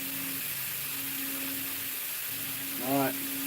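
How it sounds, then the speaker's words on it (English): A burger patty sizzles in a hot pan, a steady close frying hiss filling the background while a person briefly speaks over it. "Loving the sizzle."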